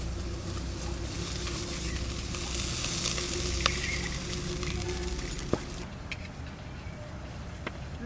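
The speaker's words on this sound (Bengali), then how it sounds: "চিংড়ি মাছ ভাজা হয়ে গেছে, নামাই নেব" Small prawns frying in a pan hiss in a steady, close sizzle that runs throughout, with a few sharp clicks of stirring near the end.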